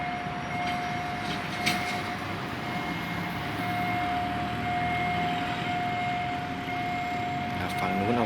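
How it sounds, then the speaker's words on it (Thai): Diesel railcar train 407 rumbles steadily past at close range over the Doi Ti level crossing in Lamphun, Thailand, with a constant crossing-bell tone ringing over the clatter and a brief horn-like toot. "ขบวน 407 นะครับ ก็กำลังจะผ่านจุดตัดรถไฟดอยติแล้วนะฮะ"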